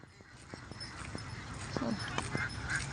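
Egg-laying ducks out in an open rice field give faint, scattered calls and honk-like quacks over a soft outdoor background, a few short cries rising slightly toward the end.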